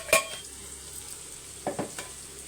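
Chili powder being mixed into hot coconut oil gives a faint, steady sizzle, with one sharp scrape of a utensil near the start and two more brief stirring scrapes toward the end.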